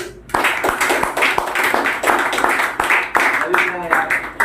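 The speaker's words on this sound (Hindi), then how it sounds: "तालियां भाई" Audience at a motivational talk breaks into choppy, uneven clapping that runs the whole way, with voices sounding over it.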